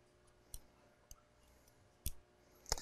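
Snips cut a scion for a small shohin bonsai graft, heard as a few sharp, isolated clicks against a quiet background, the final two snips louder and sitting close together.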